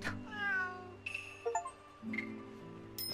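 Several meows from a cat in a video game, with a short chime between them, heard clearly against quiet game music.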